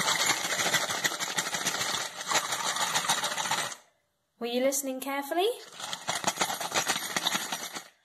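A bunch of metal keys jangles and rattles in dense, continuous bursts close by, broken by a short silence and a brief spoken question.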